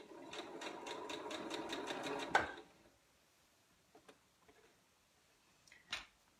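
A sewing machine stitches a fabric tarot card case in a fast, steady mechanical run of about two and a half seconds, then stops abruptly, leaving a few faint clicks and handling taps.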